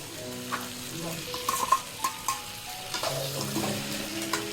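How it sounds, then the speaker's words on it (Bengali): Crabs sizzle as they are stirred into a spiced Bengali crab curry in a pan, with soft frying hiss, several distinct scraping and clinking strokes of a spatula, and a faint tonal hum underneath. "আমি এখন কাঁকড়াগুলা দিয়ে দিচ্ছি।"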